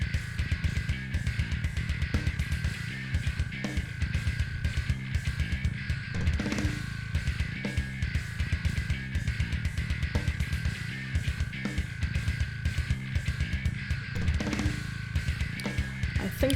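Modern bass line alternating distorted, gritty passages with clean sections, played as a steady rhythmic riff of repeated plucked notes throughout, even and unaccompanied by voices.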